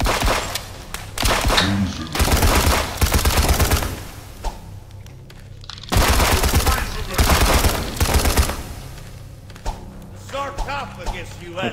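Rapid SMG fire in the VR shooter Cactus Cowboy Desert Warfare on PSVR2, two sustained bursts of close, punchy shots with a quieter gap between them, plus scattered clicks and thuds.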